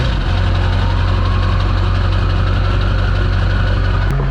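A 7.3L truck engine idles loud and close in a steady, unbroken rumble, with a slight shift in tone near the end.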